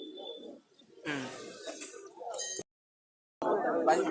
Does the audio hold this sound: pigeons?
yes